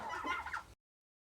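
A Yokohama fancy chicken gives a single short, close cluck, after which the sound cuts to silence.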